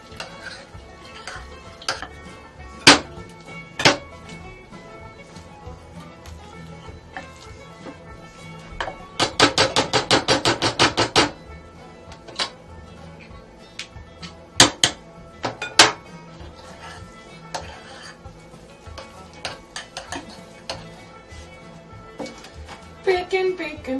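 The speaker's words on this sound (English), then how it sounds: "Just stir it together." A utensil knocks and scrapes around a pot of mashed potatoes as they are stirred, scattered sharp taps with a rapid clattering burst near the middle, close up, with intermittent talking throughout.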